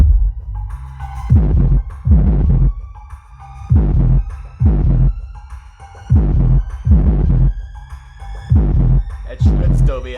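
Heavy bass from subwoofers on a home hi-fi system, pounding in loud repeated bursts about once a second with brief gaps between, strong and close.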